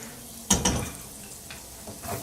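Carrots stirred in a hot cooking pan, a low sizzle broken by a couple of sharp utensil scrapes and knocks against the pan, then a few softer stirring sounds.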